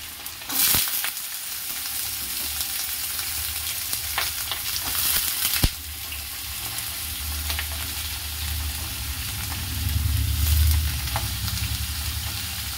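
Grated raw beetroot fries in hot oil with a continuous sizzle, broken by a few sharp clatters and louder stirring bursts near the end.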